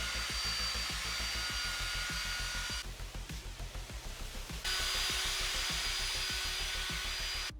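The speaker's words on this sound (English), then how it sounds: "then I brush everything in with the drill again" A power drill fitted with a scrubbing brush works cleaning liquid into the fabric of a heavily soiled sofa, a steady motor whine with rhythmic scrubbing strokes, its tone shifting partway through.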